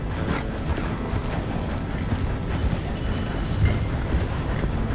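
Rapid, continuous hoofbeats of several wild horses galloping close by in Red Dead Redemption 2, a dense rumbling clatter with no talking.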